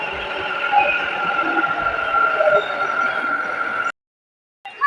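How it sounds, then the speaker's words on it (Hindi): A metro train rumbles steadily at a station platform, a continuous loud drone with tonal whine that cuts off abruptly near the end, followed by brief renewed noise. "ये रहा हमारा मेट्रो आ रहा है।"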